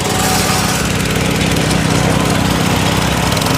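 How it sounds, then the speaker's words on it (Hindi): A small, low-cost mini tractor engine runs steadily and loudly at close range, with a dense continuous rattling drone and no pauses. "भारत का सबसे छोटा ट्रैक्टर"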